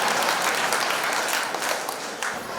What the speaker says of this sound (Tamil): கைதட்டு அந்த ஒருத்தருக்கு மட்டும் நன்றி.